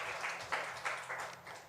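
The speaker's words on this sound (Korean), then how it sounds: "우리 하나님께 영광의 박수 올려드리겠습니다" A church congregation at a Korean Sunday worship service breaks into applause, a short burst of many hands clapping with rhythmic surges, heard from a moderate distance in the sanctuary.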